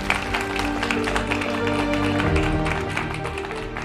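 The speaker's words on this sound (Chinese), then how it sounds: "再次把掌声送给龚瑞耿玲" Audience applause for a pair of crosstalk comedy performers on a televised stage contest, a steady dense clatter of many hands filling the hall for a few seconds.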